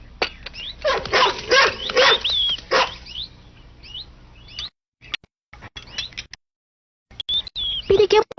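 A dog barks in short bursts alongside chirping birds and background voices in an animated Tom Sawyer episode, loud and close with brief gaps of silence.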